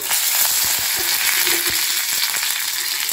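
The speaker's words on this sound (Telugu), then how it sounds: "ఇప్పుడు కరివేపాకు వేసుకున్నాము" Curry leaves dropped into hot oil with tempering seeds and dried red chillies, giving a loud, dense, continuous sizzle with spitting crackles and occasional stirring clicks up close, with no talking.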